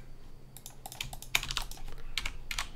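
Fingers tap on a computer keyboard in quiet, close, uneven bursts of crisp clicks with short pauses between them, in the slow pace of an unhurried typist.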